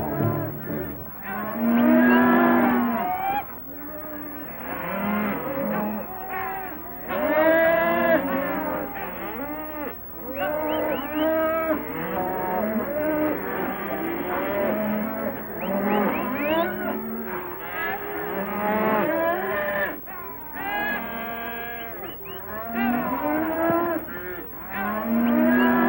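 Herd of cattle lowing repeatedly, overlapping moos near and far in a steady chorus with no other sounds.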